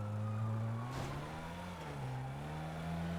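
A car driving in a video game while being stolen at an airport, with a steady engine drone that shifts pitch as it speeds along, loud and continuous with no talking.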